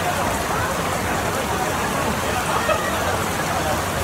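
Heavy rain pours steadily over an outdoor street food market at Jalan Alor in Kuala Lumpur, a dense continuous hiss of drops on surfaces with faint crowd babble beneath.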